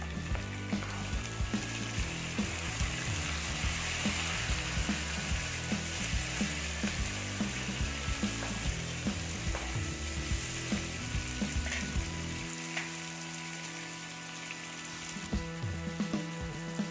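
Tomatoes and coconut frying together with pepper and cumin in a pan for a prawn kuzhambu, a steady close sizzle broken by rapid clicking, scraping stirs, with no voices.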